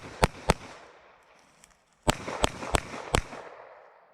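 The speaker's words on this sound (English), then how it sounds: "I needed to shoot 3 times, not 4 times" Sharp, loud gunshots on a cold January start ring out: two quick cracks, a short silence, then four more in fast succession, each with a brief echoing tail.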